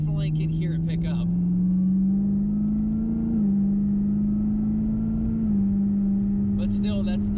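A Camaro ZL1 1LE with a 3-inch catback exhaust, still cold, drones steadily from inside the cabin and rises in pitch as it picks up speed, with speech at the start and end.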